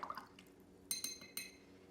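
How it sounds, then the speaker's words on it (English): A paintbrush is dipped into a small container of water, giving a few soft liquid splashes and light glassy clinks, brief and close. "you can take a paintbrush, dip it in some water"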